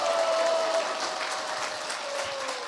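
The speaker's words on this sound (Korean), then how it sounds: "다시 한번 큰 박수 한번 부탁드립니다" A crowd applauds steadily, dense clapping from many hands at a moderate level, continuing throughout without voices.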